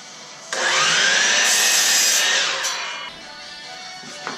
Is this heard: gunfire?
no